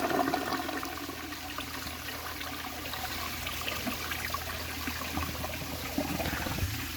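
A 1.6 gallon toilet flushing, water rushing and swirling steadily for several seconds, then trickling, heard close and moderately quiet with no voices.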